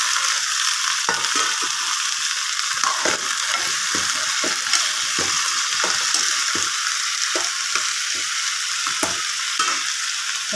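Okra fries in a pan with a steady, close sizzle for a tamarind okra stew. Frequent scraping stir strokes break through the hiss at an uneven rhythm, and no one speaks.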